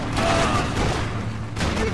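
Dense gunfire rattles continuously in the Max Payne 3 video game, loud rapid shots blending into a steady roar with a brief dip near the end.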